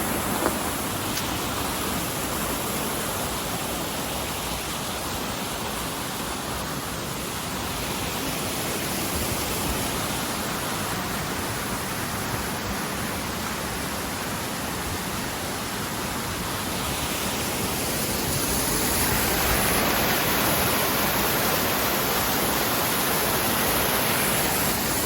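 Secluded rainforest creek rushing steadily, a dense broadband roar of flowing water heard close and continuous for the whole span, swelling slightly louder toward the end with no voices.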